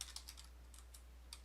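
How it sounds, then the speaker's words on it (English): Keys tapped on a computer keyboard at a slow, uneven pace, giving a handful of soft, close clicks spaced apart over a quiet background hum, with no speech. "My keyboard's a little slow here."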